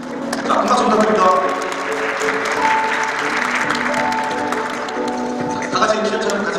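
An audience applauds at an inauguration and awards ceremony in Icheon, sustained crowd clapping mixed with ceremonial background music, swelling at the start and again near the end.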